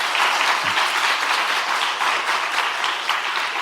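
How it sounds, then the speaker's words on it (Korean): A church congregation at a Korean young adults' Sunday service claps in encouragement, a steady, moderately loud wash of many hands that holds evenly throughout. "열심히 잘 달려가라고 우리 격려의 박수 한번 해주시기 바랍니다."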